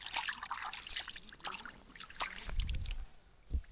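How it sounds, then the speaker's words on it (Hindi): Water of the Mandakini river flows and trickles steadily along its bank at Chitrakoot, a continuous near wash with a few low rumbling surges toward the end. "सुंदर सुंदर ये जलधारा"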